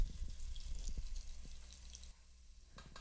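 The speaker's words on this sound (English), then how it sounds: "then we're going to add our chicken broth and our water" Water and chicken broth are poured into a pot for cooking couscous, a soft, close trickle and splash with a few drips, fading quieter toward the end.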